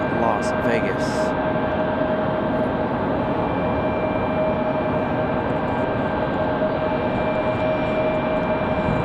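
An Airbus A320-200 Neo departs Raleigh Durham International bound for Denver, its steady broadband engine roar holding at full strength throughout with a faint tonal whine riding on top, and a few brief clicks early on.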